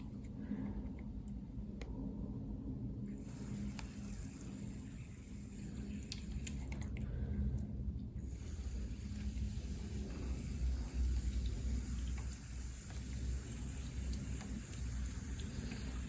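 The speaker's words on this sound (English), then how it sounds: "what I'm going to do right now is water these" Water gently sprinkled over freshly sown pepper and kohlrabi seeds in slightly moist soil, a soft, steady patter that stays quiet and even throughout, with no talking.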